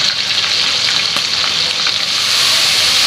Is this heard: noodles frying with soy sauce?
yes